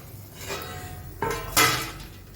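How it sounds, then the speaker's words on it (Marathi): A metal lid lifts off a tawa griddle with a couple of clanks, the second knock louder, then a brief ringing clatter in a quiet room. "चला यावरचं आता आपण झाकण काढून ठेवलं"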